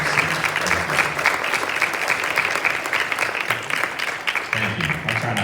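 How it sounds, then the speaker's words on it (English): A room claps for a committee at a meeting, applause running continuously at a fairly loud, even level, with a few low murmurs of voices mixed in. "if we can do a round of applause for the committee and for Faye for all her service"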